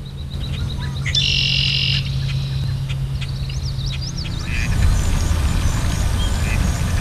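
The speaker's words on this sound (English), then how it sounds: "Herons, shorebirds, ducks, swans, and geese congregate here whenever the water is not frozen." Ducks, geese, herons, shorebirds and swans gathering on open water in a vast wetland, with chirps, squawks and quacks layered over a steady low background hum, some calls close and sharp, others more distant.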